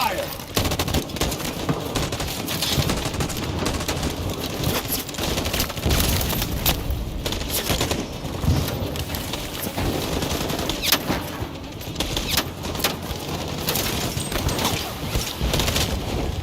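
Rapid gunfire in Detroit: Become Human, dense overlapping bursts of automatic shots and crashes rattling continuously for over sixteen seconds, loud and close with a brief lull near the middle.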